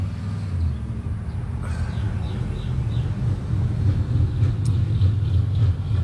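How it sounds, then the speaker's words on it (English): A newly built truck on a test drive gives a loud, steady low rumble with wind buffeting throughout, growing slightly heavier toward the end. "these guys are test driving this truck"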